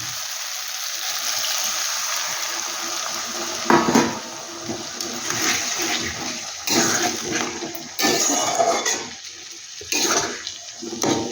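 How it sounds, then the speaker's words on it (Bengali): Water poured into a cooking pan of fenugreek greens, a steady splashing, trickling stream that runs close and fairly loud, with a few louder bursts and brief pauses, no talking. "এবার আমি একটু জল দিয়ে দেবো।"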